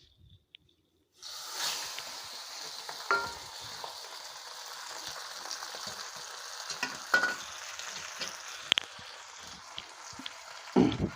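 Kandhuli fish frying in refined oil in a small wok, a steady hiss and sizzle with scattered crackles and pops, fairly close, running on without talk after a short quiet start.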